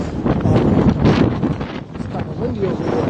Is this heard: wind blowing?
yes